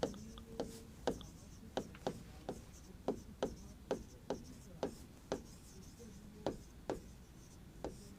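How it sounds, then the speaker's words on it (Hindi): Chalk or marker tapping and scratching on a board as point names are written, a steady series of about fifteen short crisp strokes close by, with no talk. "तो यहां पर बिंदुओं के नाम लिख रहा हूं"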